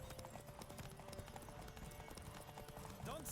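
Horse hooves galloping in Witcher 3, a steady drumming of clip-clop beats heard close and continuous beneath game music and some voice, with a brief higher sound near the end.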